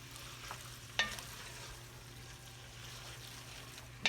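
Venison chili simmers and sizzles steadily in a pot, with a soft, even cooking hiss and two sharp utensil clinks against the pot, one early and one at the very end.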